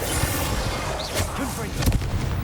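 A Bombarda explosion spell goes off in Hogwarts Legacy, a short booming blast heard amid dense game effects and a constant low rumble.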